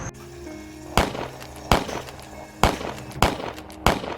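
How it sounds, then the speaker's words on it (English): Five sharp, loud bangs ring out at irregular intervals, each cracking crisply and trailing off quickly, like gunshots heard from some distance. "Did you hear that? Was that gunshots?"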